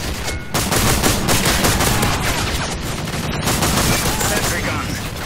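A sentry gun in Modern Warfare 3 fires in a loud, sustained rapid stream of shots, with dense machine-gun chatter that carries on throughout with only brief dips.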